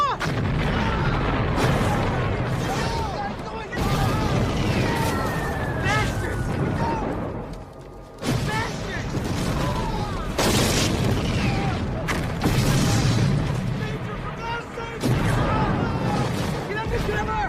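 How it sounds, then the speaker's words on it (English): Repeated heavy bomb explosions and booming bursts from a World War I film battle scene come in waves, loud and close, while shouting voices are heard between and over the blasts. "Our guys are bombing us!"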